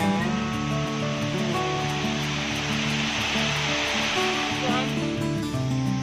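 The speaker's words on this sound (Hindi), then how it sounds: "पहाड़ से नहीं बल्कि बादलों से पानी गिर रहा है, बादलों से झरना गिर रहा है" Badal Khora waterfall in Burhanpur: water falls from a mountain with a steady, dense broadband roar that holds throughout, partly overlaid by tonal music.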